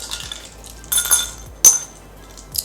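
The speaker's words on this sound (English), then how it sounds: "In here I have some ice cubes." Ice cubes in a small container during a skincare routine clink a few times, with a couple of short, close, bright rattles and knocks. No one speaks.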